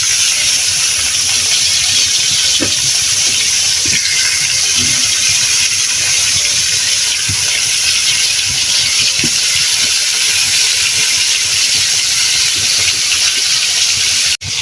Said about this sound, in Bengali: একে একে সব মাছগুলো আমি ভেজে নিচ্ছি।